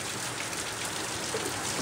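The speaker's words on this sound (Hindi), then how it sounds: "रात भर ऐसे पानी गिरेगा" Rain falling steadily, a soft, even hiss of drops throughout at low level, with no voices.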